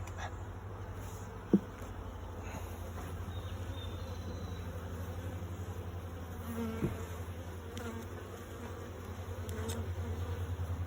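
Honey bees hum softly around a frame lifted from a newly started colony's hive, a faint continuous buzz with a couple of brief knocks and no speech.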